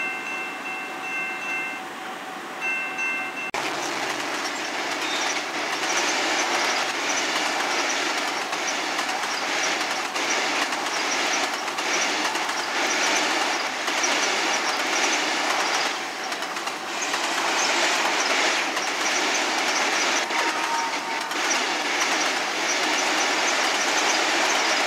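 A video game train rolls steadily along the tracks with continuous clickety-clack and rumble, loud and close throughout, with a brief tonal hum at the start.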